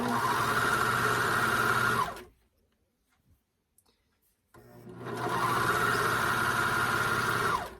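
A sewing machine stitches the front panel of a Taylor rashguard to its sleeve: a loud, close, steady whirring run of about two seconds, a pause, then a second sustained run of several seconds.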